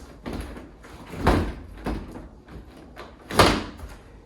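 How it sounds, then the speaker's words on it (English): Sliding glass door lifted and pivoted into its frame during a roller wheel replacement, giving a few separate knocks and scraping thuds, close and fairly loud, with the sharpest bumps near the start and end. "I'm going to again pull the door up and pivot it in."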